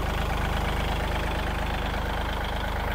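A Kubota L3608 tractor diesel engine idling close by, a loud steady rhythmic chug with an even pulsing knock, no voices.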